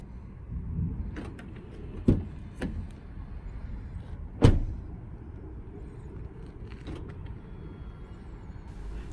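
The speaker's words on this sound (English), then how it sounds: "Then we leave the car and unlock the car several times." A 2019 Lexus RX300 being unlocked several times, heard as a few sharp clicks and short mechanical clunks spaced over several seconds against a quiet, low background hum.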